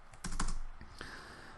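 Keys on a computer keyboard clatter in a short burst of quick close taps, a handful of clicks over about a second in a quiet room.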